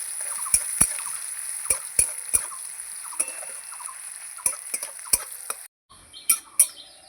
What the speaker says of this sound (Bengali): এবার আমি এই পেঁয়াজটা দিয়ে দেব দিয়ে পেঁয়াজটা আমি একটু ভালো করে নাড়াচাড়া করে নেবো একটু ভাজবো